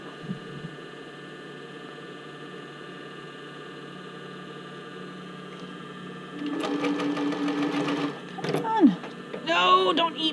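A sewing machine stitching swim top fabric hums steadily and close at a moderate level, with handling noises and someone talking near the end.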